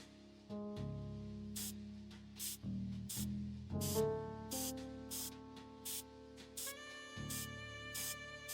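Repeated short bursts of spraying in Frog Detective 3, about a dozen quick hisses set against a sustained tonal game music bed that shifts pitch.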